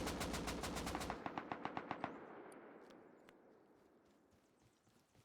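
AK rifle fire in the game Rust: a loud rapid automatic burst of evenly spaced shots that gets quieter and ends after about two seconds, then faint scattered distant shots and one sharp crack at the very end.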